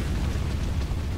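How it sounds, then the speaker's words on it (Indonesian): An explosion and fire in the Resident Evil 2 Remake police station makes a dense, loud roaring burst that stays sustained throughout, with no talk over it. "Awas, kebakaran. Tuh, meledak."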